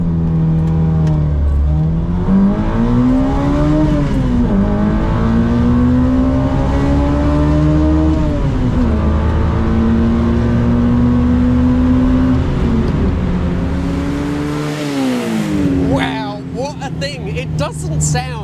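A 1968 Honda S800 engine revs through the gears, its tone climbing, dropping at each shift and climbing again, loud and close for the full stretch before easing off near the end.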